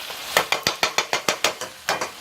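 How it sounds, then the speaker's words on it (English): A utensil scrapes and taps around a pan while pesto is stirred in, about ten evenly spaced clinks in a steady rhythm, close and fairly loud with no voices. "stir that in there real good"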